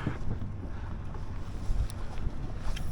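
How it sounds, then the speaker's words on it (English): A boat passing on open water during a bonito run off Long Island, heard as a steady engine and water wash blended with heavy wind buffeting the microphone, continuous and fairly loud throughout. "And this boat's coming through, it's gonna scare them."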